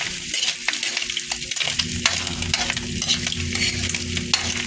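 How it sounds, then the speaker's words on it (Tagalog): Chillies being stirred as they fry in a pan with chicken intestine nearby, a continuous sizzle broken by repeated scraping strokes of the utensil in a loose rhythm, close and clear. "halo-haloin natin ito"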